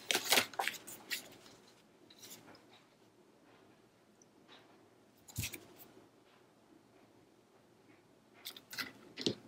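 Paper being trimmed for a scrapbook page, with quick crisp snips and rustling handling clustered at the start, again near the middle and at the end, and quiet pauses between.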